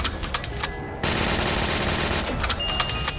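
Rapid, dense gunfire from a pocket cannon in Call of Duty Black Ops III Zombies, a loud continuous burst of automatic shots after a brief pause, close and harsh.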